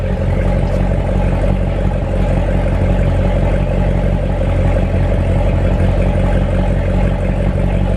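A deep Corvette C7 V8 exhaust with a titanium X-pipe rumbles steadily at idle, loud and close, with a crisp, slightly raspy burble and no talking.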